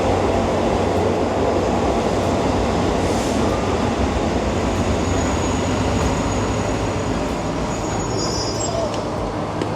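Third class train running from Bangkok to Hua Hin, a steady, loud rumble of wheels and carriage noise filling the whole stretch without a break, heard from on board.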